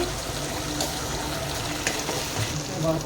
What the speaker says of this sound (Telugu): పేస్ట్ మొత్తం పచ్చివాసన పోయే వరకు ఫ్రై చేసుకోవాలి.